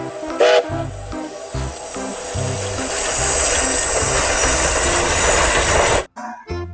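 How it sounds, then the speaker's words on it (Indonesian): A Thomas toy train hums and hisses steadily with a high electronic whine, after a few short clunks, then cuts off abruptly near the end. "Yang ini kereta Thomas"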